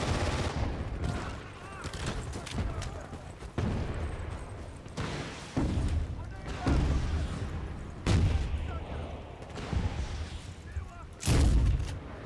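Shotgun blasts in Medal of Honor 2010 multiplayer on the Kunar Base map, with about seven heavy booming shots spaced a second or two apart, each with a rumbling tail, over steady game ambience and some voice.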